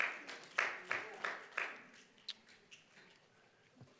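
A meeting audience at a Kern County Board of Supervisors evening budget session applauds a public commenter. The clapping comes as a few distinct bursts that fade into scattered claps.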